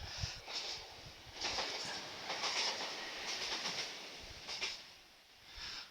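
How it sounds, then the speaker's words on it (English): A train rolls past at a distance, a steady rumbling clatter with rhythmic clickety-clack bursts and faint wheel noise, no voices. "the train's just coming past"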